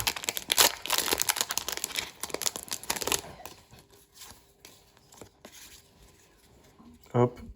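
Opening a foil trading card booster pack, with a dense crinkling, tearing rustle of wrapper up close for about three seconds, then quieter handling of cards and a sharp rustle near the end.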